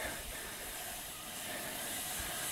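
An alcohol stove hisses steadily while boiling water outdoors, a soft continuous airy rush that stays even and fairly faint throughout with no other sounds.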